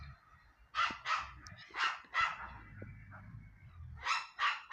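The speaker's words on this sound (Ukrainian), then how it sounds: "Гавкають собаки" Dogs bark in short bursts, a pair of barks, then another pair, a pause, and a final cluster, heard from a moderate distance with quiet background.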